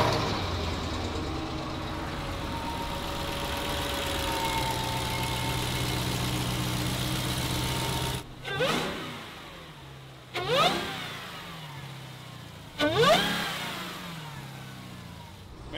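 A powerful Dodge Hellcat engine rumbles steadily, then blips sharply three times in quick revs, each surge rising and falling back to a throaty idle.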